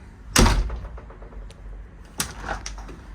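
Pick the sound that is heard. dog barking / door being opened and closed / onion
door being opened and closed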